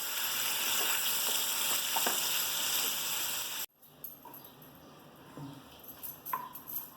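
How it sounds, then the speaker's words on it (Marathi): Chopped onion sizzles loudly in hot oil in a pan for an omelette curry, a dense steady fry that abruptly drops to quieter, sparse crackles with a few faint clinks. "आता तेलावर परत कांदा परतून घेऊ."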